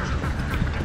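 Ducks quacking in a rice field, a brief burst of close, raspy quacks against a noisy outdoor background.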